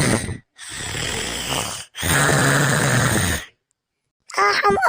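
Loud, rasping human snoring in long drawn-out breaths separated by brief pauses, close and harsh, followed by a short burst of a voice at the end.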